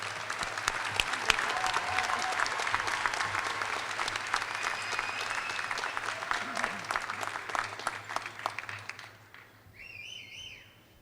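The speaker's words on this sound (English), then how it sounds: "Please join me in applauding the graduates of the College of Communication, Languages, Arts, and Social Sciences." Applause from a large commencement audience at a university fall graduation ceremony, sustained dense clapping with a few whistles and cheers, fading out near the end.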